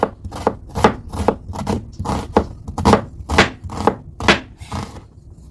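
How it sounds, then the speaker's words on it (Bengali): A knife chops half an onion finely on a board with about a dozen crisp, close strikes in an uneven but steady rhythm, with no talking. "সাথে হাফ পেঁয়াজও কেটে নেব কুচি কুচি করে।"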